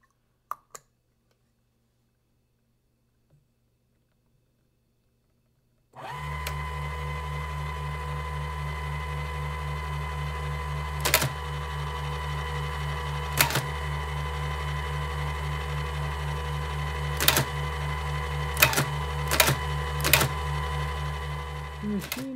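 A Hagelin HX-63 rotor cipher machine built by Crypto AG in Zug, Switzerland, in 1963 runs with a steady mechanical hum and whir, broken by several sharp, loud clicks and clacks after a few silent seconds at the start.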